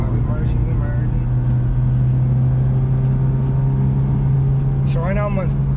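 A Honda Civic Type R FK8 merging onto a freeway in first gear gives a loud, steady low engine drone that holds throughout, with a brief voice near the end.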